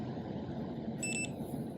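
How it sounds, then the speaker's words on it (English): An LCN 6440 compact low-energy automatic door operator gives two short, faint electronic beeps close together over a quiet room hum. "You should hear the operator beep twice"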